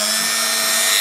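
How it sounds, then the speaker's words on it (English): A small drill bores steadily into a broken hinge screw on a pair of vintage Bausch & Lomb Ray-Ban sunglasses, a close, continuous high whine with a steady hum that shifts slightly at the very end. "ensure that you actually drill through the middle of the screw"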